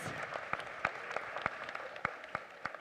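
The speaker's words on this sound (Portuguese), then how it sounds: "Eu acredito que eles merecem uma salva de palmas, né?" Church congregation applauding young people during a youth service: a sparse, steady run of separate hand claps, fairly quiet and slightly distant, with no talking over it.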